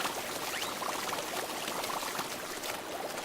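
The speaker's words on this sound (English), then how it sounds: "I'll demonstrate with a sprinkler, and I'm mainly trying to use it while it's running at full power" A sprinkler in the Splatoon video game runs at full power, giving a steady, close, hissing spray like rushing water that holds an even loudness from start to finish.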